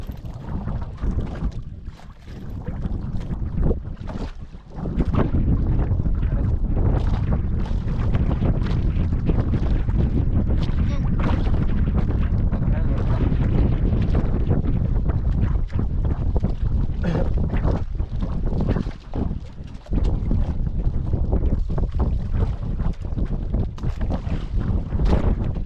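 Strong wind buffets a boat, causing loud, deep blustering rumble against the microphone that dips briefly twice before surging back.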